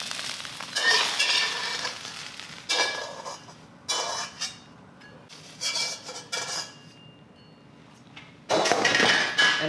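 Egg foo young frying in a wok, a soft sizzle broken by repeated clattering spatula scrapes and knocks against the pan, loud and close, with brief quieter pauses between bursts.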